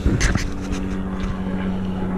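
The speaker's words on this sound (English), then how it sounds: "Sorry about the plane overhead." A low, steady engine rumble of an airplane passing overhead drones throughout, outdoors beside an offset smoker cooking beef short ribs, with a brief bit of voice near the start.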